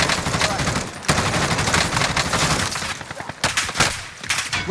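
Sustained heavy automatic gunfire and bursts of shots fill a Call of Duty: Modern Warfare match, loud and dense throughout, with a voice faintly under the barrage.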